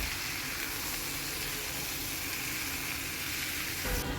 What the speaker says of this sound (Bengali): পেঁয়াজটা একটু নরম হয়ে যাওয়ার পর দিয়ে দেওয়া হলো টমেটো আর পেঁয়াজটাকে আরও একটু ভালোভাবে ভেজে নিয়ে নেড়ে চেড়ে আরও একটু নরম করে নেওয়া হবে।